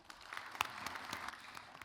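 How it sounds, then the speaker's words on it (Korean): Faint, distant applause from a gathering of business leaders at a formal meeting with South Korea's President Moon, a brief soft patter of clapping with one sharper clap standing out early. "박수 부탁드립니다"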